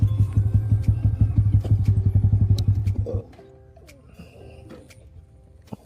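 A motorcycle idles with a steady close-up thumping pulse that cuts off abruptly when the engine is switched off, leaving quiet outdoor background.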